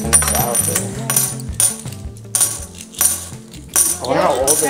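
Silver coins clink and jingle as they are handled and shuffled, with repeated bright chinks up close and a voice speaking briefly.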